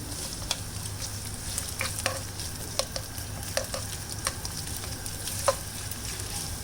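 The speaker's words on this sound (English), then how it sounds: "heat some oil in a pan and then add 2 small sliced onions and then mix it" Two small sliced onions sizzle and fry in hot oil in a pan, a continuous soft crackle broken by sharp clicks and scrapes as they are stirred, close and fairly quiet, with no one talking.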